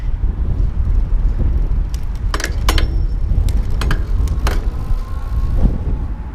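A Raleigh Venture iE electric bike shifts gear while riding, with sharp mechanical clicks standing out over a constant rumble of wind and road noise and a faint motor whine.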